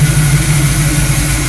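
A 1968 Camaro's engine idles close by in a garage, a loud, steady low rumble with an even pulsing rhythm and no voices.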